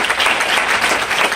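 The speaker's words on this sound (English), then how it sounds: "Let's give the Lord a hand clap." A church congregation at a prophetic conference claps loudly and steadily, with dense, continuous applause filling the room.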